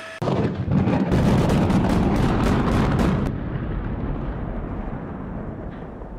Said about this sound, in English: partial implosion went off with a bang